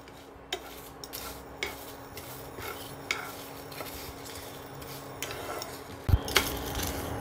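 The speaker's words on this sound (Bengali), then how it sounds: "এগুলো সব এখন আমি শুকনো খোলায় ভাজবো।" Whole cumin and spices dry-roasting in an empty pan, with a soft steady rustle and stirring scrapes plus occasional light clinks of a spoon against the metal, quiet and close, no speech.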